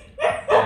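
Vietnamese H'mông cộc dog giving two quick, loud, close barks in a row, lasting well under a second.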